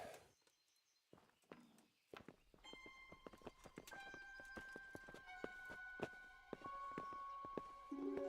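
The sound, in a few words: horses walking, from video game Kingdom Come: Deliverance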